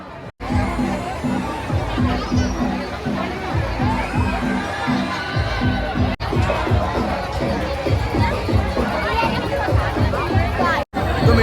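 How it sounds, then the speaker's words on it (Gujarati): A busy crowd hums with overlapping voices and shouts, with rhythmic thumping music or machinery pulsing underneath throughout. "મેળામાં લોકોની ભીડ પણ જોવા મળી રહી છે"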